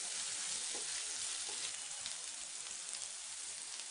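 Spinach paste frying in a pan, a soft, steady sizzle with faint stirring scrapes, quiet and continuous without speech.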